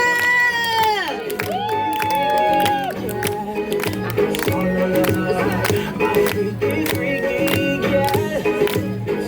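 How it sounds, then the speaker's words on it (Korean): Crowd cheering and clapping at a street busking dance show in Hongdae, loud and continuous after music fades, with shouts and whoops throughout. "박수!"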